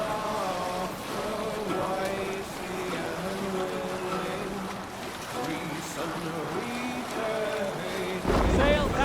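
A Viking longship from Assassin's Creed Valhalla sails out at sea, with a steady wash of wind and water under voices that talk and call out over it, and a louder burst near the end.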